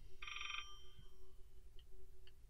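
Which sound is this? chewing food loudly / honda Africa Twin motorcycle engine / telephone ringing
telephone ringing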